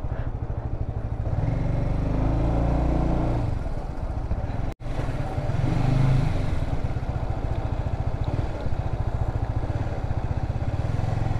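Motorcycle engine idling and running close by, a steady loud throb with mechanical clatter and one brief dropout in the middle, with little else over it.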